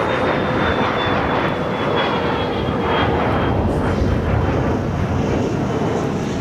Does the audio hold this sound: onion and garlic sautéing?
no